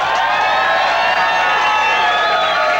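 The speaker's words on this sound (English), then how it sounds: "Give them a big round of applause." A crowd at the Minnesota State Fair cheers and applauds finalists of a 'Live In It and Win' endurance contest. The sound is a loud, continuous wash of clapping and cheering that holds steady throughout.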